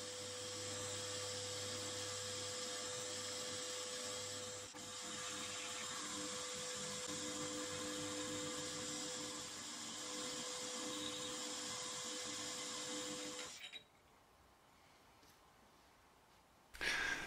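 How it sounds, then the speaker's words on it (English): A milling machine drills holes for brake gear pins in a brake shoe ring, a steady close whine with a tonal hum running for about thirteen seconds before cutting off into quiet, then a brief bump at the end. "I center drill and drill the holes for the brake gear pins."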